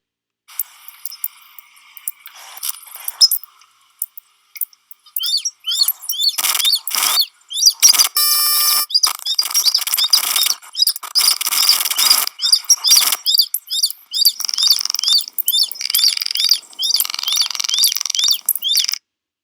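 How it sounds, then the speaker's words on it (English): High, thin calls of migrating birds chirp and trill in repeated bursts, some rapid and clustered, others spaced apart, against near silence between them. "generate sounds of the birds"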